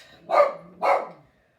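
A dog barks twice in quick succession, close and loud, with a short gap between the two barks and no other sound around them.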